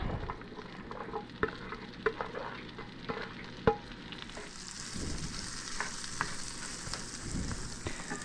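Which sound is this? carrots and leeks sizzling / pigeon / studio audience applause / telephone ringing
carrots and leeks sizzling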